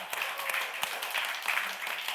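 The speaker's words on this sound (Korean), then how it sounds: "우리 선생님 힘내라고 우리 박수 한번." Brief applause from a church gathering during a pastor's talk, a short burst of clapping from a modest crowd mixed with some voices.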